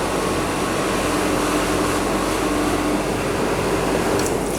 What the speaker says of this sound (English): agitator's going round